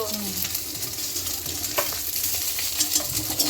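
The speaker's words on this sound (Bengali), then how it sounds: "এখানে ডিম ভাজা হচ্ছে অমলেট হচ্ছে অমলেট" An egg omelette sizzles in a pan, a steady crackling fry with faint scraping and stirring sounds, heard alone at moderate volume.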